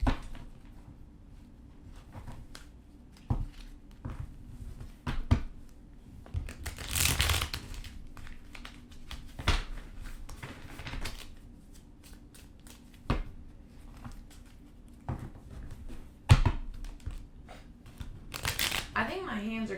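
Tarot cards being shuffled by hand during a reading, repeated riffling bursts and soft flicks at irregular intervals across twenty seconds, fairly close and moderately quiet, with a person talking between them.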